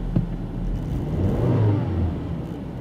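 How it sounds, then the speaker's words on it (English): A 2004 Volvo V70 2.5T engine with a misfire, recorded from the dashboard, makes a low, steady rumble that swells briefly in the middle before settling. No voices are heard. "you might be able to hear the misfiring because the mic for the camera is right on the dashboard"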